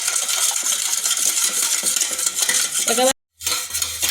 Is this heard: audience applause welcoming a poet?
no